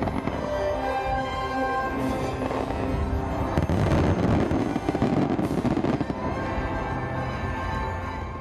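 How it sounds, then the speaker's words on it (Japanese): Fireworks at the Urayasu fireworks festival, a continuous barrage of booms, crackles and bursts, loud and dense throughout with no speech. "今年の花火大会のメインテーマは、空に海に光り輝く浦安花火"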